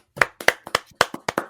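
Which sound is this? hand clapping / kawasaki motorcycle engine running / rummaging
hand clapping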